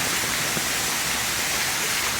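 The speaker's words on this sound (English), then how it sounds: "Heavy, heavy rain. Mad rain." Heavy rain pours down in a steady, loud, dense hiss of countless drops, unbroken and without any voices.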